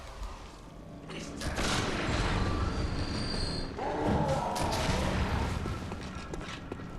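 Enemies shooting at the player in Bloodborne, a dense, continuous rattle of gunfire and heavy clatter filling the whole clip at a fairly loud level, with no clear pauses.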